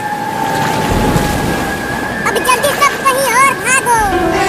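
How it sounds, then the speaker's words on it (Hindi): Floodwater rushes through a submerged village in a cartoon, a loud churning wash of water under excited children's voices and whooping cries. "पूरा का पूरा गांव बाढ़ में डूब चुका है।"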